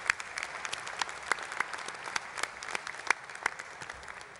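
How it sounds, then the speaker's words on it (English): Scattered, fairly faint applause from a graduation audience honoring central office administrators, with irregular individual claps rising above a thin, steady patter. "If they would please stand, so we can also give you a round of applause for your support of these students."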